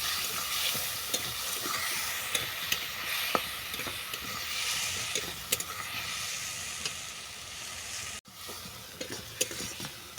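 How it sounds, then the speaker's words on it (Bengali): Chili powder fries with potatoes in a pan while being stirred for a Bengali hilsa-head and whole okra curry, a steady near sizzle punctuated by repeated spatula scrapes and taps, briefly dipping once; no talking. "এরপর দিয়ে দিচ্ছি লঙ্কা গুঁড়ো ভালো করে কষিয়ে নেবো"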